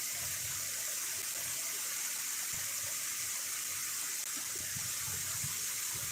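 Water from the Ujani dam on the Bhima river pours into the Ardhanari-Machnur barrage, a loud, steady, unbroken rush with no voices.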